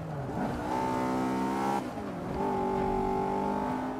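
A race car engine in Forza 5 revs hard and climbs through the gears, a loud, close, steady whine with a brief dip near the middle before accelerating again, with no talking.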